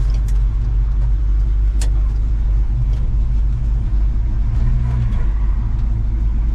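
A 1957 Chevrolet 3100 pickup truck engine rumbles steadily while driving, a low constant drone with faint road noise and occasional light clicks.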